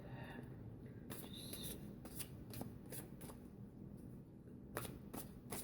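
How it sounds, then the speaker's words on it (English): Tarot cards are laid down one after another, making a series of faint crisp slaps and slides against a quiet hiss, with no talking. "I'll be laying the cards towards the camera"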